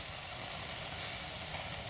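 Eggs dropping into hot oil in a pan, a dense continuous close sizzle and hiss lasting a couple of seconds with no voices.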